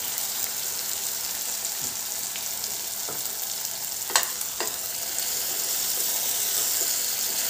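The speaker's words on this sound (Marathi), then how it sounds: "गॅस कमी करून आपण मसाला थोडा मंद आचेवर छान असा फ्राय होऊ देऊ, त्याला तेल लाल असं सुटेपर्यंत।" Masala sizzling in oil in a pan on a low flame for a soybean curry, a steady soft fry with a few faint clinks partway through, no talking.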